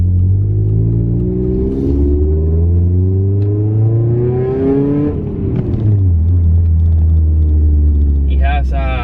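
A 1999 Hyundai Tiburon with an exhaust leak revs up and back down several times, the engine pitch sweeping upward, loud and close, and a voice speaks briefly at the end.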